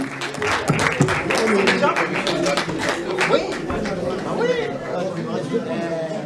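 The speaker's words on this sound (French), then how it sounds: "Applaudissez-vous." A cinema audience applauds at a film premiere, dense clapping mixed with loud crowd chatter and cheering voices throughout, close and sustained.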